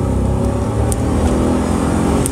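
A truck engine revs at high RPM in a loud, steady, sustained drone with a rough, throaty tone, close up and without talk.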